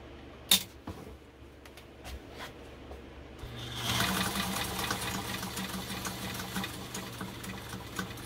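A Brother 190 Flairmatic sewing machine stitching a wide zigzag: after a click and a few knocks, a steady rapid mechanical chatter starts and runs on close up, with no talking.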